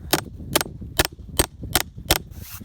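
A grafting knife is struck into apricot tree bark during bud grafting, giving six sharp, evenly spaced knocks at close range, each a crisp tap with a little rustle between them.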